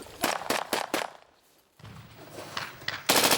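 Rapid bursts of rifle fire during Royal Marine commando assault training, a quick string of sharp, loud shots, a brief lull, then more shots close by.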